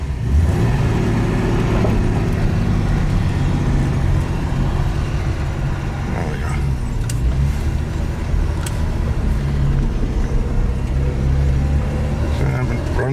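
A 1970 Jaguar XJ6 4.2 with a manual gearbox pulling away in first gear, steady engine hum and whir from inside the car with continuous talking over it.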